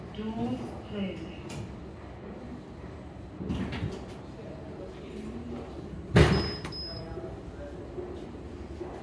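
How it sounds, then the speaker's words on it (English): Lift doors at Manchester Airport slide and close with a few soft rumbling movements and one sharper thud, amid background murmur and an automated announcement voice. "Doors closing."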